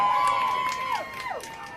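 Philadelphia Sharks team members shouting a rehearsed championship cheer in unison at an E Division championship game, loud group voices rising and falling over crowd noise for a couple of seconds.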